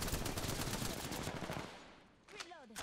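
Rapid automatic gunfire in Apex Legends, a dense rattling burst lasting a couple of seconds before fading, followed by a brief voice.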